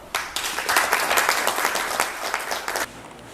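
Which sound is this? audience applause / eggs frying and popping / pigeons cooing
audience applause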